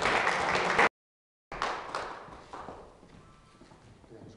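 An audience at a literary almanac presentation in Syktyvkar applauds to welcome a singer. The clapping is dense and full at first, breaks off in a short silence, then resumes and gradually fades.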